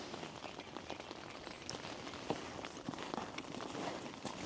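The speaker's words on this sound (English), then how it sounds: "The rain has just not stopped" Steady rain patters on a tent at a winter wild camp in the Lake District, a dense, continuous hiss of drops with occasional sharper taps, close and even throughout.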